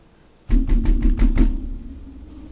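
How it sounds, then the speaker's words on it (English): Sound effect of knocking on a door during a tabletop role-playing session: a rapid series of about six firm, resonant knocks, close and loud, followed by a fading ringing tail. "You're gonna hear knocking at the door"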